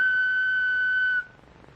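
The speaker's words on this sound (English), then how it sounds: "When you hear me blow on this whistle" One sharp, steady whistle blast is held loud and clear for a little over a second and then stops abruptly, leaving near silence with no voices.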